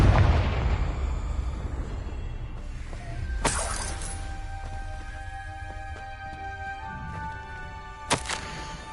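A Confringo fire spell in Hogwarts Legacy goes off in a loud shattering burst, with crackling debris and a second sharp blast a few seconds later. A voice calls out the spell beforehand.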